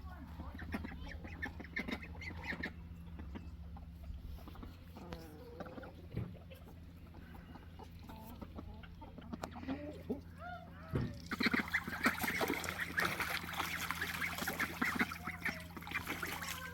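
Ducks and geese on a farm quack and honk near and far amid outdoor ambience, with someone talking over them and the birds growing louder and busier toward the end.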